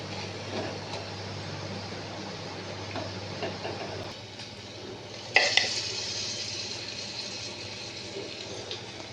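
Vegetable pakoras fry in hot oil with a steady sizzle and soft bubbling, a brief clatter of a utensil midway, no talking.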